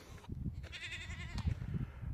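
Goats kept to clear undergrowth beneath pine trees let out one clear, drawn-out wavering bleat, nearby and moderately loud, set against rustling and shuffling of the herd.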